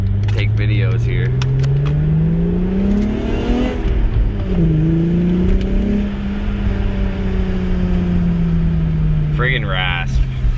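Car exhaust rasping as the engine revs and the driver lets off the gas, a steady loud engine drone whose pitch rises and falls over low road noise, with a voice speaking over it.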